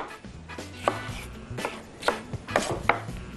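A knife chops hot peppers on a board while a Yemeni fahsa is cooked: a string of sharp, close, irregular blade knocks, loud and dry, with no talk.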